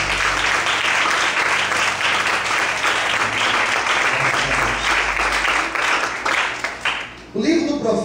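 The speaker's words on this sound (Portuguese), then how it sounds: "Você pode desocupar a sua mão e aplaudir e glorificar ao Senhor." A church congregation applauds together during a worship service, a dense, sustained clapping that fills most of the stretch before tapering off, with a voice joining near the end.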